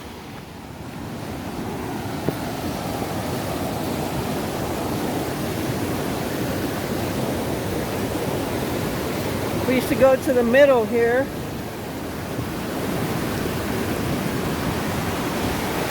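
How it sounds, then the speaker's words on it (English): Water from a dam rushes through a channel beneath a bridge, making a broad, steady roar that fills the whole stretch. Someone speaks briefly partway through over the rushing water. "here's where the water comes from the other side. And it goes all the way out there through the channel."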